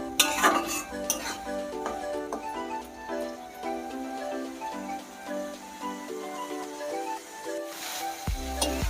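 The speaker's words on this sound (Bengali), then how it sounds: "মশলাটা এবার ভালো করে কষাবো" A ginger and chili spice paste is stir-fried in a pan for khichuri, with repeated metal spoon scrapes and clinks against the pan over a faint sizzle.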